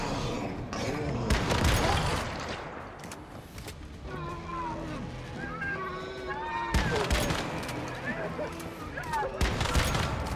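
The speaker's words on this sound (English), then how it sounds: "If I could stop running out into gunfire" Bursts of rapid gunfire crackle in a game soundtrack, separated by a quieter stretch where tonal chirps and game sounds carry on.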